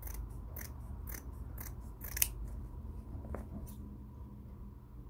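Scissors cutting out a paper embroidery pattern for a rose embroidery tumbler kit, a close run of crisp repeated snips at an even pace, quiet room, no talk.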